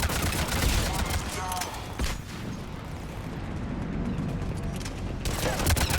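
Turret gunfire in Mass Effect 3, dense rapid bursts of shots with mechanical clatter, loud at the start and end with a slightly quieter stretch between, while a voice speaks over it.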